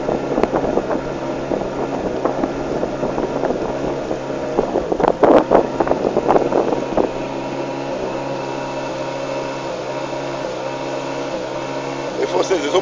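A motorboat on a river near Mbandaka, its engine droning and rising as it speeds up, with wind buffeting the microphone and people talking over it.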